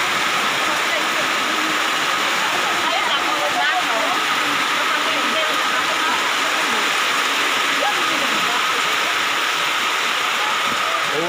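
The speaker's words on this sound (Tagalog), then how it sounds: "Malakas ng ulan." Heavy rain pours down in a steady, dense roar that stays loud and unbroken throughout, with no voices rising above the wash of water.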